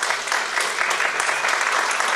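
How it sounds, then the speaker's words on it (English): Audience applause at a summer school graduation ceremony, a dense, steady wash of clapping from a large crowd that holds evenly throughout with no voices over it. "I think our candidates for graduation deserve an initial round of applause for their perseverance"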